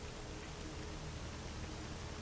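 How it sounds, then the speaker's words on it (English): Steady rain in the STALKER Anomaly GAMMA modpack, a faint, even hiss of falling drops with no distinct splashes, unchanging across a couple of seconds and with no voices. "the rain makes it hard to see"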